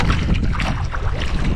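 Strong wind at sea buffets a fishing boat, a loud, dense roar of gusts and water noise, close and continuous, with no voices.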